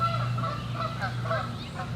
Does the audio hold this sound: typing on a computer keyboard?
no